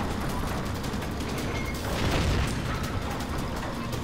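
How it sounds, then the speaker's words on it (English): Mechanical clanking and creaking of a Panzer II tank in the World War II shooter Heroes and Generals, a steady grinding rumble that swells briefly near the middle. "There's a Panzer II at my side also."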